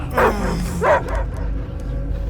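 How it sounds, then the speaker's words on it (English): Dog barks and whimpers twice in quick succession, loud and close, in the video game Marvel's Guardians of the Galaxy, with a low rumbling ambience continuing after the barks. "I hear only barking."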